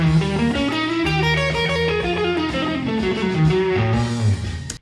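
Electric guitar playing a diminished lick with bluesy phrasing, a loud continuous run of sustained, slightly distorted notes stepping through the phrase for several seconds, ending abruptly.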